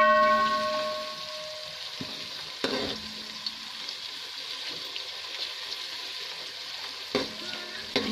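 Whole spices sizzle steadily in hot oil for Moradabadi biryani, a loud, continuous frying hiss broken by a couple of sharp stirring scrapes, with no talking.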